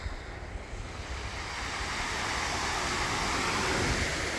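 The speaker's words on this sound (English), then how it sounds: "Yeah, very strong rip current here, so you really don't want to go in that water." Ocean surf breaking at Asilomar beach, a steady broadband wash of waves that swells louder over a few seconds, with some wind noise on the microphone and no voices.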